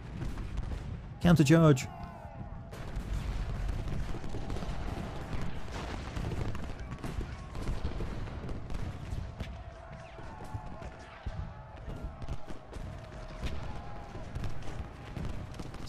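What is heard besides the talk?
cannon and musket fire in Ultimate General: Gettysburg video game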